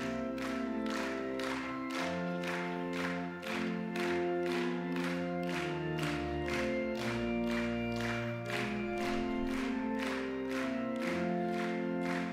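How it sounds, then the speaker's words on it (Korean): A church congregation at a Korean early-morning prayer service claps in steady rhythm along to a hymn, sharp regular claps over sustained organ and singing tones, close and continuous. "다 함께 박수 치시면서 찬양하도록 하겠습니다"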